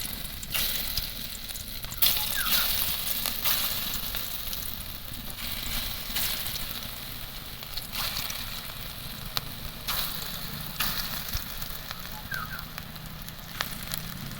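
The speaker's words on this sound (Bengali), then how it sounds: "কড়াইও তেলটাও গরম হয়ে গেছে আমি এবার ছোট ছোট করে বড়াগুলো দিয়ে দেবো" Small egg fritters fry in hot oil in a nonstick wok, producing a steady crackling sizzle with scattered pops and occasional stirring scrapes over about fourteen seconds, no one speaking.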